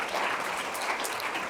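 A live audience at a women's initiative program breaks into a sustained round of applause, dense steady clapping from many hands filling the room with no voices over it.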